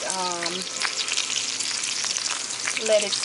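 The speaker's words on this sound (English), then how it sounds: "lobster is cooking" Lobster fries in a pan with a loud, steady close sizzle and crackle, Haitian style, with faint tonal bits of a voice or sound at the start and end.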